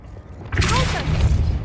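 A Bombarda blasting spell explodes in Hogwarts Legacy, a sudden loud burst about half a second in that rolls into a sustained rumbling crash with whooshing debris.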